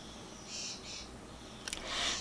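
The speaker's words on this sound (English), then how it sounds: "you can hear the birds" Faint bird chirps in short bursts over a quiet outdoor background, with a brief cluster of sharp calls and a louder trill near the end.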